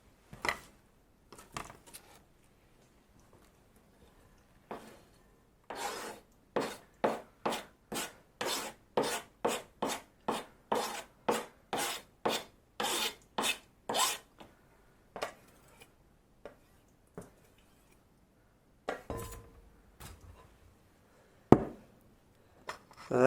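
A knife chopping wild garlic finely on a board: quick, crisp strokes against the wood, sparse at first, then a fast, steady run of cuts, then a few scattered chops, close and fairly quiet.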